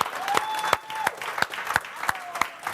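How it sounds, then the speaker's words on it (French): An audience on a televised hypnotist show gives a short round of applause, made of sparse, distinct claps spaced unevenly for a few seconds, fairly light and not a full ovation. "On l'applaudit, s'il vous plaît."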